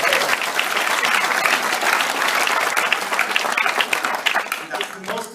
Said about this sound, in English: That's the most applause I've ever had for doing that.